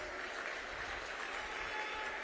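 A crowd at a Haryana political rally in Jagadhri, Yamunanagar claps in a dense, even wash of many hands, loud and sustained across the short stretch with no break.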